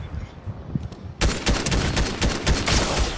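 Heavy rapid gunfire in the battle royale game Fortnite breaks out after a quieter stretch with a few scattered shots, then continues as loud, dense overlapping bursts, with a voice faintly present.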